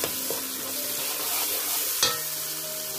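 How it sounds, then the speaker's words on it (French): Spices being stirred into a pot of Cameroonian yam stew, a steady close scraping and simmering hiss with one sharper knock of the spoon partway through, no talk. "Je remue."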